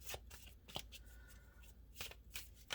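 Tarot cards being shuffled close by in a quiet room, a few soft riffling bursts with brief pauses between them.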